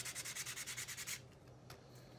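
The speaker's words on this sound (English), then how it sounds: "when you're sanding it, you start off with like a really rough, gritty sandpaper" A wooden wand is sanded with rough, gritty sandpaper, giving a rapid, even run of close, scratchy back-and-forth strokes that stops abruptly after about a second. Faint handling noise and quiet room tone follow.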